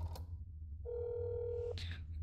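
Telephone dialing in the video game That's Not My Neighbor: a short click, then a steady electronic tone held for about a second, followed by a brief burst of higher beeps, all over a constant low hum.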